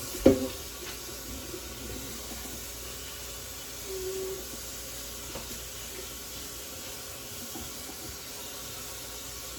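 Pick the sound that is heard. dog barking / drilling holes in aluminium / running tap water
running tap water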